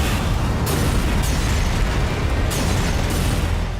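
Air strike explosion in news footage of the Israel–Hamas war, a continuous loud roaring rumble with sharp bursts of blast energy recurring through the clip, no speech.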